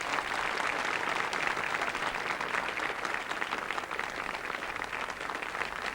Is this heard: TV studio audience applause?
yes